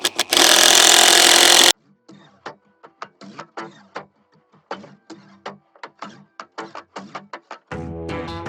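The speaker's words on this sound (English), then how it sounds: "I'm gonna drill this in." A power drill whirs loudly for a couple of seconds driving into a wooden 2x4, then stops, followed by softer scattered knocks and clatter.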